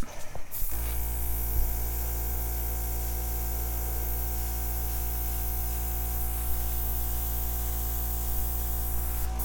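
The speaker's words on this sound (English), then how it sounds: "I'm going to airbrush these edges out." An airbrush sprays acrylic paint in a steady, continuous hiss that starts abruptly and runs unbroken and close at moderate volume.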